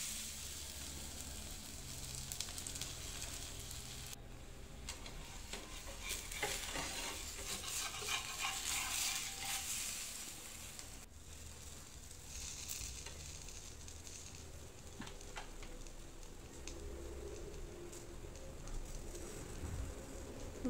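Thalipeeth flatbread fries in oil on a pan with a steady, soft sizzle and crackle that swells midway, close and continuous with no talking.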